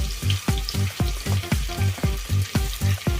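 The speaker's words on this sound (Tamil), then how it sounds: "நம்ம நறுக்கி வச்சிருந்த பல்லாரியை அப்படியே நம்ம போட்டு நல்லா பொன்னிறமாக வதக்க வேண்டியதான்." Steady sizzle of sliced big onions frying golden in hot oil for prawn biryani, broken by a regular rhythm of a spoon scraping and stirring the pan, about three strokes a second.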